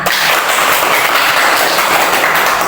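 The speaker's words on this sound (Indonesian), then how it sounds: "Semangat semua, tepuk tangan untuk kita semua." Schoolchildren in a classroom clapping their hands together, a continuous, dense and fairly loud patter of many hands with no pause.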